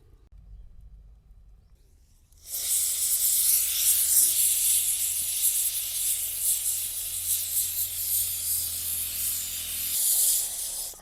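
Onions and coconut roast on a wood-fired chulha stove, a loud, steady close hiss and crackle that starts abruptly after a quiet moment and runs on continuously.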